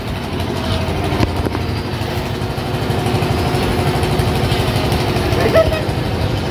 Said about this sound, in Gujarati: આ મશીનો બહુ ચાલે છે ને ત્યાં મશીન ચાલે છે એટલે અવાજ થોડો ખોલાય છે